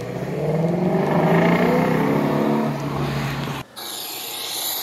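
A Mazda Miata race car lapping Blackhawk Farms Raceway on a damp track day. The engine drones loudly and steadily with gear-change shifts in pitch, then cuts abruptly to quieter road and wind noise.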